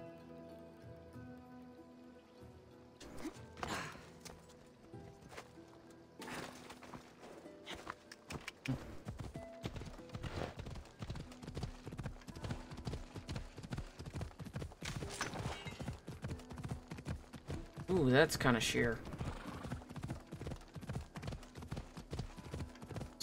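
Horse hooves clip-clop steadily and evenly in Assassin's Creed Odyssey, paired with a light, rain-like patter, while a voice briefly speaks over the hoofbeats.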